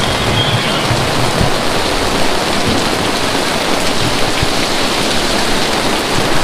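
Heavy rain and hail pound on an awning in a dense, loud, continuous hiss and patter with scattered sharper hits, steady throughout and close, with no voices.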